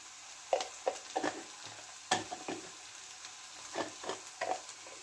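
Spices frying in a pan with ground coriander, cumin and oil, stirred by hand: faint steady sizzle broken by a series of scraping, clattering stir strokes at irregular intervals, no voices.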